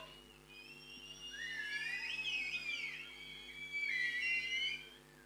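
Fathers at a school social day whistle together, their several wavering, sliding tones overlapping in a faint, airy chorus that swells and fades over a few seconds.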